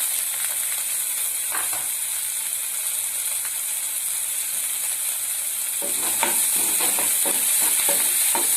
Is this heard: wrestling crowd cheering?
no